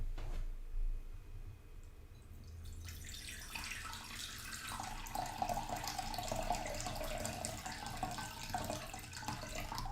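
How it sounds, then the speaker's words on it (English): Tap water runs steadily into a bowl, a continuous faint splashing and gushing that starts quietly and fills out after a few seconds, with no voices over it. "we are going to fill this bowl with some water"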